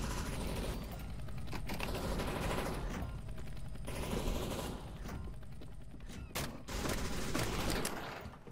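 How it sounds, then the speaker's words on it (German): Automated turret pouring sustained gunfire in CS:GO Danger Zone, a dense, steady stream of rapid shots running the whole stretch with a few brief dips. "wir haben ein Geschütz, was direkt auf mich zielt"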